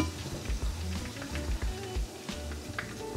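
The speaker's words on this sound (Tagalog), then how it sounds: "Piprituhin ko lang din to hanggang sa maprito" A hotdog frying in a pan, soft steady sizzling and crackling with small pops and taps, moderately quiet and continuous.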